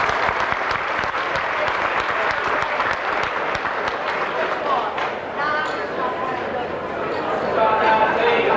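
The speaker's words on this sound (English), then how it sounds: "Once again, give yourselves a big round of applause" Audience applause fills an auction hall at a Hall of Fame and Top Cat auction: dense, steady clapping from a crowd, close and loud, running unbroken throughout with a murmur of voices beneath it.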